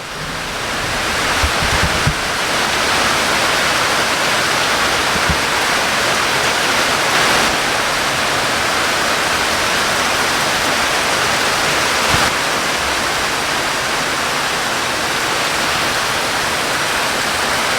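Heavy rain with thunder and lightning pours down in a constant loud, hissing rush that never lets up.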